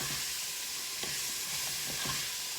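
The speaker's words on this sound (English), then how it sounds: "So I added that garlic." Garlic sizzles in a pan with carrots, onions and celery, a steady broadband frying hiss with occasional soft stirring scrapes and pops, close and alone.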